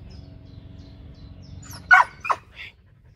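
A dog lets out two or three sharp barks in quick succession after a stretch of quiet background noise.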